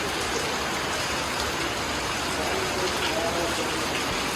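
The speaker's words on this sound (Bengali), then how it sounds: "কালকে থেকে তো একটানা বৃষ্টি হয়ে যাচ্ছে" Steady, continuous rain falls as a dense, even hiss on a farm with rabbit sheds, unbroken and fairly loud throughout with no distinct drops standing out.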